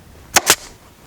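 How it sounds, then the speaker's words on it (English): Two sharp, close staple gun shots in quick succession while upholstery fabric is stapled, loud and percussive against a quiet background. "I'm just going to pull this fabric back and put another staple in there."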